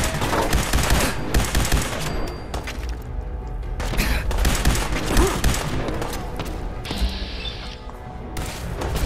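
Rapid gunfire from an upgraded weapon in Fallout 4, dense bursts of shots with clanking mechanical clicks and crashes, loud and close, briefly pausing before the firing resumes.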